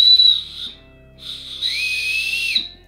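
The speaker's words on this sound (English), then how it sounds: "And you have a whistle." A shrill survival whistle is blown twice close by, first a short blast, then a longer, breathier one.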